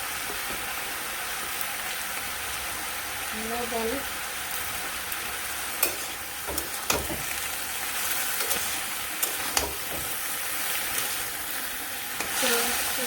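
Vegetables fry in a pan for a home-style vegetarian curry, a continuous close sizzle broken by occasional clinks and scrapes of stirring, with faint background sounds but no clear talk.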